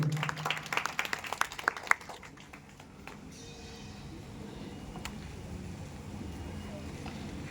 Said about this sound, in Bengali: ওনার জন্য একটু হাততালি হোক